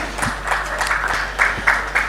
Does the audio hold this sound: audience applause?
yes